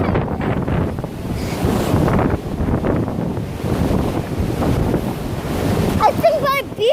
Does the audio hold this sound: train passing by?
no